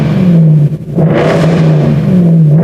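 A Land Rover Defender's 5.0-litre V8 with a Veleno exhaust revs loudly and close, a deep sustained roar that dips briefly and then climbs again, with no talk over it.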